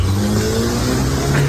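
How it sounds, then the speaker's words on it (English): A car engine revs hard as it speeds away from a courthouse, a loud, steady, close roar that holds its pitch for the whole stretch with no talking over it. "that is the sound of Rasheed Rice's car that he jumped into"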